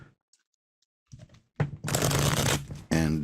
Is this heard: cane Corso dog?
no